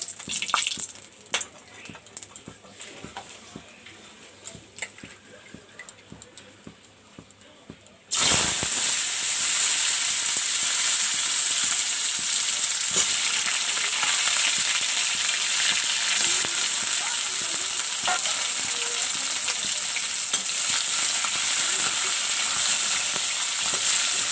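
Mango pieces drop into a hot pan with mustard and burst into a loud, continuous sizzle that holds steady after a quieter stretch of small kitchen clatter.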